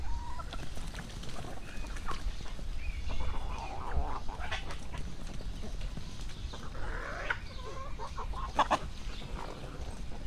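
A chicken clucks while handfuls of feed are thrown to it, with steady close clucking and rustling over a constant low outdoor rumble.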